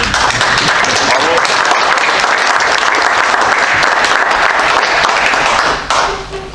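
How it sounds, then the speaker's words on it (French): Sustained applause fills a municipal council meeting in Levens, loud and steady throughout before thinning slightly at the very end, with a few voices mixed into the clapping. "je crois qu'on peut applaudir"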